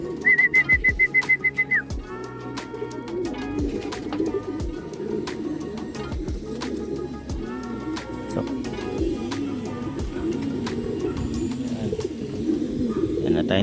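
Racing pigeons cooing and calling near and far during a fun race, with a repeated whistle-like chirp at the start and steady background bird chatter throughout.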